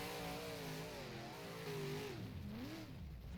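A race car engine in the sim game rFactor revs hard on a dirt track, its pitch rising and falling in repeated throttle sweeps, loud and continuous with no talk.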